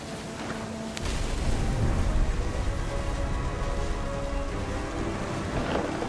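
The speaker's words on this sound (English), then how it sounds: "The thunder sounded much too close and full of angry power." Steady rain with low rumbling thunder inside the game What Remains of Edith Finch, a dense continuous wash that swells after the first second and holds at an even, fairly loud level with no voices.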